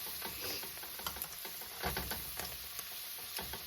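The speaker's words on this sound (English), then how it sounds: "we're going to move this around like so and let that flour, that raw flour, cook off" Raw flour being stirred around a hot pan for beef stroganoff: a steady scraping, sizzling texture with small irregular knocks of the utensil, close and fairly quiet, with no voices.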